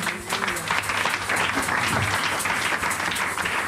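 A church congregation applauds and cheers together during a worship service, a dense, steady wash of clapping and voices filling the room at close range throughout.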